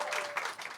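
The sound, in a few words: comedy club audience applause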